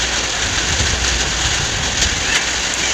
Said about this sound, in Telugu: వర్షం పడుతుంటే చూడండి